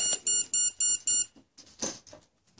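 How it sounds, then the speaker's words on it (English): A YGE 120LV electronic speed controller gives five evenly spaced, loud electronic beeps as it initializes on a 6-cell battery, followed by a few softer clicks and rustles. "it just gave us our initialization and the 6 beeps, telling us it's a 6 cell"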